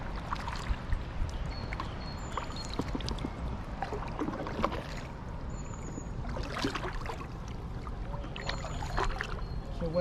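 Gentle canoe paddle strokes and water sloshing on the river at Stratford-upon-Avon, with soft splashes and dribbles over a steady outdoor background.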